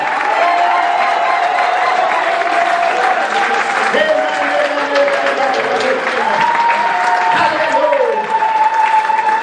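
A church congregation applauds and cheers loudly and steadily throughout, a dense wash of clapping with shouting voices and a sustained sung or cried tone rising over the crowd.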